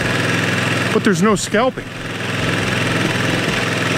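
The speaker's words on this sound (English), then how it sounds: "Mower's running in the background, safety first." A lawn mower engine runs steadily in the background, a continuous low drone under a man's speech, on a lawn being cut low after days of rain.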